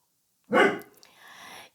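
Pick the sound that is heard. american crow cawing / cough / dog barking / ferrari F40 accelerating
dog barking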